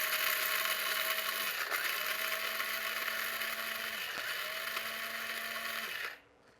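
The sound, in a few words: coffee grinder grinding beans for French press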